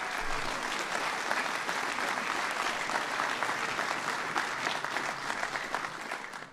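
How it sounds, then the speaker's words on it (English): A large audience applauds steadily throughout at a formal ceremony where the President presents the Commander-in-Chief Trophy, with dense, sustained clapping from a sizeable crowd filling the whole clip. "Give him a big round of applause."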